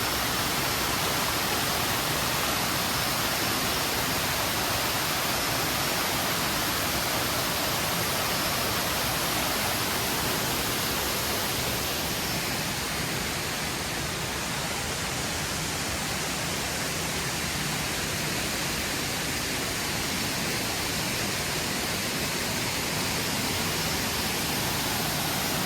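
Steady, loud rushing of falling water at Banyumala Waterfall in Bali fills the whole span, a dense broadband roar with no voices.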